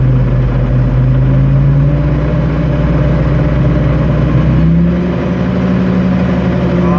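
A car engine running steadily while the vehicle reverses, a loud, low, continuous hum with a slight shift in tone partway through.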